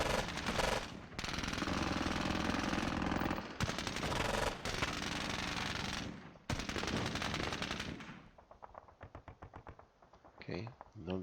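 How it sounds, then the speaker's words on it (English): Rapid bursts of machine gun suppression fire in the World War II strategy game Squad Battles Eagles Strike, loud sustained rattling volleys broken by short gaps, then thinning into sparser, fainter shots near the end. "Let's lay down some suppression fire."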